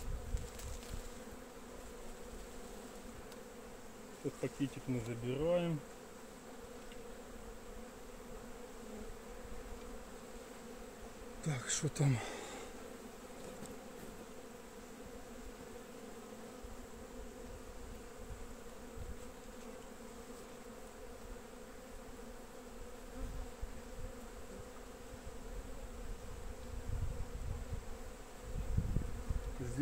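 Honey bees buzzing steadily in a small nucleus colony hive, a soft continuous drone close by, with quiet talk and a couple of rustling handling noises over it.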